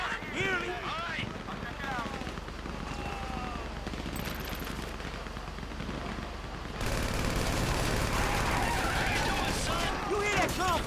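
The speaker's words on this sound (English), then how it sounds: "You hear that gunfire?" Dense, rapid GTA 5 gunfire crackles continuously under overlapping shouted voices, with the shooting growing louder and denser partway through.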